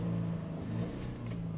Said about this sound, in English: our traffic light Grand Prix acceleration test with our BRZ with snow tires on it in the winter